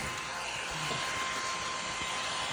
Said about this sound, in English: These little vacuums are nice, you guys